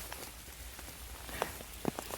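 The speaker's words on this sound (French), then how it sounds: "il pleut quand même très très fort" Heavy October rain comes down over a mushroom field, a soft steady patter with a few louder, close drops striking near the end.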